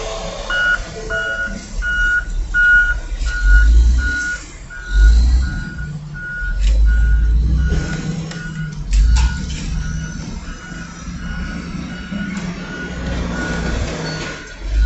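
A large machine pushes a scrap metal pile while steady reversing beeps repeat in a regular rhythm over a heavy diesel engine rumble, with bursts of clanking metal and scraping.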